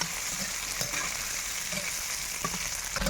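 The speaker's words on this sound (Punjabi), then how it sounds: "ਤੁੜਕਾ ਆਪਣਾ ਭੁੱਜਦੇ ਨੂੰ 2-3 ਮਿੰਟ ਹੋ ਗਏ ਆ" Steady dry crackling and sizzling of a ground-spice tempering roasting in a hot pan, close and continuous, with occasional light clinks and no talking.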